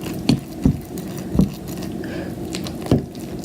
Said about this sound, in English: You're going to just keep stirring and mixing and mixing